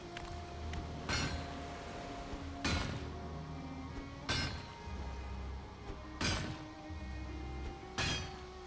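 Digging into terrain to gather stone in the video game Valheim, with several sharp, crunching pick strikes landing at a steady interval of about one and a half seconds over a constant low ambient game hum.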